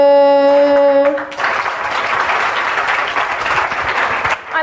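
Church congregation bursts into applause right after a sustained held note ends, a loud dense wash of clapping filling the hall for several seconds before trailing off.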